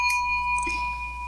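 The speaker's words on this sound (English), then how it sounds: "Hit the bell" A bell sound effect rings out with a bright metallic strike followed by steady sustained tones that hold through the clip, clear and alone.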